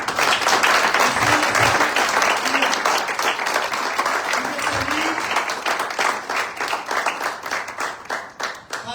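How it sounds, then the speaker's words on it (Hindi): A church congregation at a Resurrection Sunday service applauds loudly and continuously for several seconds, dense clapping that thins slightly toward the end, with faint voices mixed in. "तो जोर से ताली बजाएं यीशु मसीह के लिए।"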